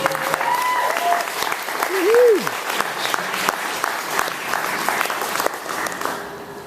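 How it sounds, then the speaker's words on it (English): Audience at a comedy show in Denver applauds a comedian, steady close clapping from a modest crowd with a brief whistle, while voices talk over it. "So big round of applause for Greg Deal."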